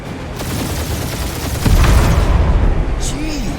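Gunfire and heavy booms from a combat scene in the video game Guardians of the Galaxy, a dense continuous barrage that swells louder midway, with occasional sci-fi whoops layered in.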